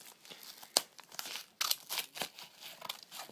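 Close, crisp crinkling and tearing as a package is cut open, irregular bursts of rustling plastic and cardboard with sharp cuts in between, no talking.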